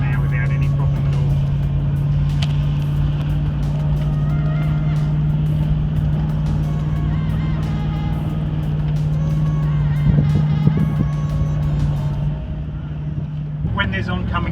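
A vehicle cruises along the smooth surf beach of Fraser Island at speed, its steady engine drone and road rumble loud and constant throughout, with a brief bump near the end.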